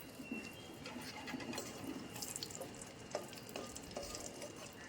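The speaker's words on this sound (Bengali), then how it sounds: "গোটা গরম মশলা তেলের ওপর দিয়ে দিলাম, গোটা কাঁচা লঙ্কা" Whole garam masala and green chillies frying in oil on a tawa left over from frying prawns, a quiet steady sizzle with faint stirring clicks close by and birds chirping in the background.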